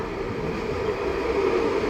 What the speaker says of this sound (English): the first train coming by was an old one